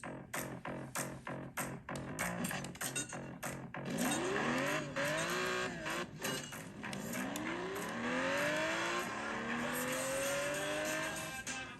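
A car in a racing video game on an iPad roars through rapid rev-and-shift pulses, then sweeping engine tones rise and fall with tire squeal, loud and continuous throughout.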